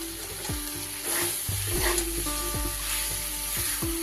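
Potatoes and pointed gourd hit a pan of frying soybean and spices, setting off a loud, steady sizzle with repeated scraping stir strokes and clinks throughout.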